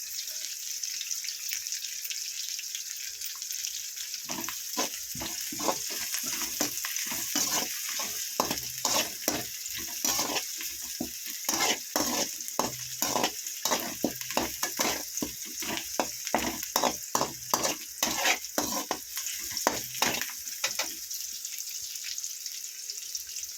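Onions and curry leaves sautéing in a pan for crab gravy, a constant hissing sizzle with a steady run of spatula scrapes and knocks through the middle stretch, close and unaccompanied by voices.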